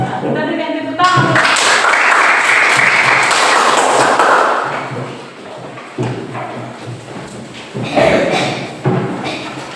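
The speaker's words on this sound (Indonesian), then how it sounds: "kita berikan tepuk tangan" A classroom of pupils claps for a group of classmates, a burst of applause lasting a few seconds that fades out, followed by scattered bumps and a teacher's voice.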